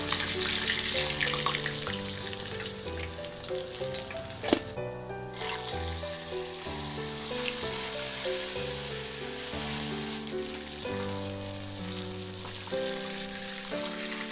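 Tilapia frying in a pan for ginataang tilapia, a soft, continuous sizzle and crackle of hot oil that stays faint throughout beneath louder background music.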